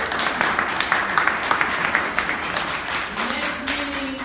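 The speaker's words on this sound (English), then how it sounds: "let's give Shauna Gill a round of applause for another great" A small group at a training class claps steadily for several seconds, modest applause that fades toward the end, with a faint voice underneath.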